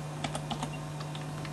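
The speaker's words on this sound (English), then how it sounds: "So I'll type in" Quick light keystrokes on a computer keyboard as a web address is typed, several clicks in an uneven run over a steady background hum, fairly close and quiet, no voices.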